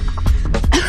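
A woman with worsening tuberculosis coughs in short, harsh bursts, several rough coughs in quick succession, close and loud with no speech.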